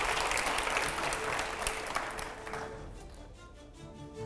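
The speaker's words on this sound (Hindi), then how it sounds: "जोरदार तालियां हो" A television studio audience bursts into loud, dense applause on a TV9 show with Arun Govil, a thick roar of clapping that holds strong for a couple of seconds and then thins and fades out.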